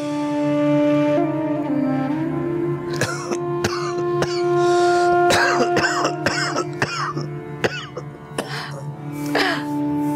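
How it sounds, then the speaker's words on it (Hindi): A person coughs and clears their throat repeatedly in harsh, rough bursts, over a steady background hum. "आपको क्यों खांसी हो रही है"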